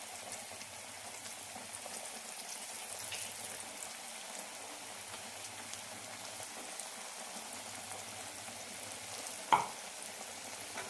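Potato pieces coated in rice flour fry in hot oil, giving a steady, quiet sizzle throughout, broken once by a single sharp tick near the end.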